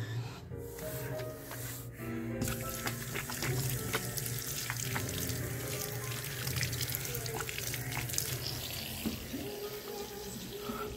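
A 2009 Excel Xlerator hand dryer fitted with a .8 nozzle roars steadily and loudly in a Tanger Outlets restroom in Deer Park, NY, a dense continuous blast of air with faint background clatter.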